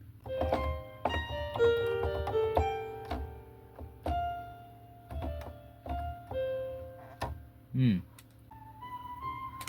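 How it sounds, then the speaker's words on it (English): Keys on a music keyboard clack and thunk repeatedly in an irregular rhythm as a grand piano sample plays, close and moderately loud with sustained notes ringing between presses. "Why do I still hear the sound of the keys?"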